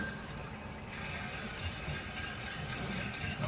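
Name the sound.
water flowing into toilet tank after new fill valve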